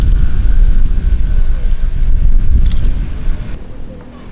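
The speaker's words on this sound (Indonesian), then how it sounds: "Wah, angin ya." Strong wind gusts buffet the microphone on a golf course with a loud, low rumbling roar that eases toward the end, while people talk faintly in the background.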